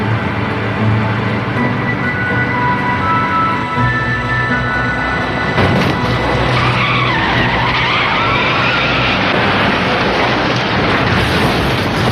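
A long, loud car skid with screeching tires and roaring engine noise, rising into a chaotic crash-like burst, no talking.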